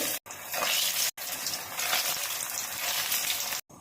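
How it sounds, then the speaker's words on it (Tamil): Bottle gourd kola urundai balls deep-frying in hot oil, a loud steady rushing sizzle broken by a few brief pauses. "இப்போ உருண்டை பொறிச்சு எடுக்கிறதுக்கு எண்ணெய் விட்டுருவாங்க ஒவ்வொரு உருண்டையாக இப்படியே போட்டுருவாங்க"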